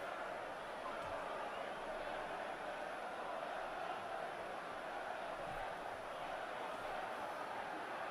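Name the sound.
added stadium crowd noise at a women's football match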